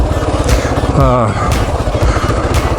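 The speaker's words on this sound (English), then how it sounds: "One thing about the KLR, she's got quite a bit of low RPM torque. Chug, chug, chug" A Kawasaki KLR motorcycle fitted with a bored-out 685 oversized piston kit chugs steadily at low RPM, its deep, even engine pulse loud and close throughout.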